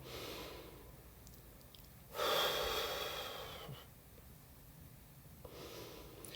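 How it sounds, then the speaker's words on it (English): A single slow breath pushed out through the mouth forms a soft, airy whoosh, fairly close and quiet, set apart from fainter breath noise before and after. "So if you take 5 breaths, breathing out through the mouth"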